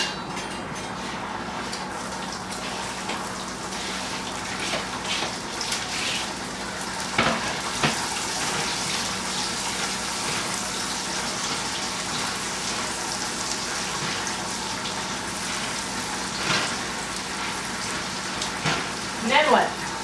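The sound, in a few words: onions frying with bacon in a pan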